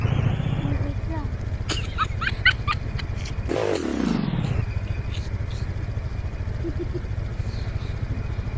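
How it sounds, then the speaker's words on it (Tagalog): Motorcycle engine revving near at hand, a rough mid-pitched drone that rises and falls with a sharp throttle sweep partway through, over a busy background with clattering. "Kargadong motor."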